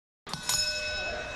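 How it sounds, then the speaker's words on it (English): A wrestling match bell rings out suddenly after silence, striking a couple of quick times and then ringing on with a bright, sustained metallic tone. "the bell rings"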